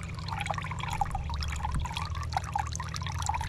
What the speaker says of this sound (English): that water that's coming out of the blue pipe at the moment